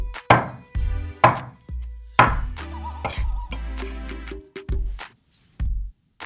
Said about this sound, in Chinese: 我们呢要稍微给它切大点儿